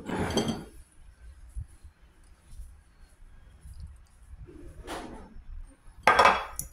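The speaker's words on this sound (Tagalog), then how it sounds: "Haluin lang na mabuti." Potato salad with mayonnaise being mixed in a bowl, a few separate clattering scrapes and clinks of a utensil against the dish, spaced apart with quiet between, close by and without speech.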